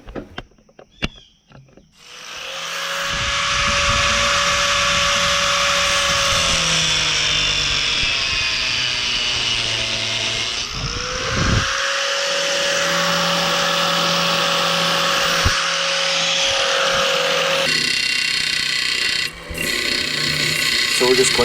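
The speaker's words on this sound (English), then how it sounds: "Getting all the excess epoxy off, getting the pins ground down flat." A bench grinder flattens pins on a file knife's handle and takes off excess epoxy, giving a loud continuous whir with pitch dips as the handle is pressed in and then eased off, broken by a short pause midway.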